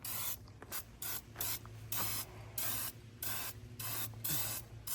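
A turbo spray-paint can sprays a Bullnose Ford F150 in repeated hissing bursts, each lasting under a second, split by brief gaps, steady and close with no voices.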